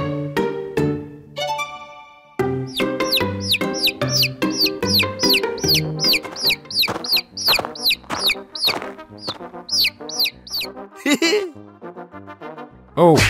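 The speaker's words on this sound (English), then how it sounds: "Oh, the chicken starts pecking the cow." A chicken in an animal battle video game clucks in quick, busy bursts while pecking at a cow, with a few brief pauses and some squeaky chirps mixed in.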